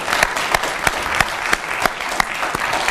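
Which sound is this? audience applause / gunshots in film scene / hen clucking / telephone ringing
audience applause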